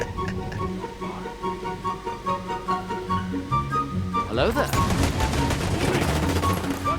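Bursts of rapid turret gunfire in Tom Clancy's Ghost Recon Breakpoint rattle over layered music and effects, growing denser and louder toward the end.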